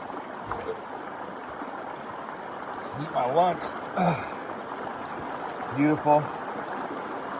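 A main river flows steadily as a broad, constant wash of rushing water throughout, with a voice speaking a few short phrases over it.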